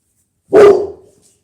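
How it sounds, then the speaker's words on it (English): A single dog yaps once, loud and close, in a quiet room where auction finds are being unpacked, the sharp bark trailing off quickly into silence. "And the dog's gonna yap again."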